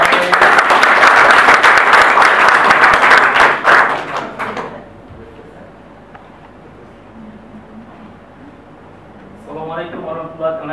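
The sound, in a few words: audience applause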